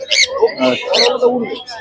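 Pet birds at the Serampore pet market in Kolkata, close, bright chirping calls in short repeated bursts, heard in a busy market setting.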